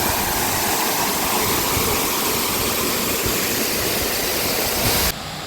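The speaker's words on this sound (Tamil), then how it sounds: "இந்த அருவி வந்து மேலே மலையிலேருந்து வர்ற தண்ணி பாருங்க" Heavy mountain waterfall on a hillside pouring down with spray, a loud, steady, dense roar of rushing water close by that cuts off abruptly near the end.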